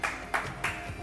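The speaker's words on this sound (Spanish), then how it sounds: "Ruso aplaude" Three brief, sharp hand claps spaced evenly over about a second, close and moderately quiet.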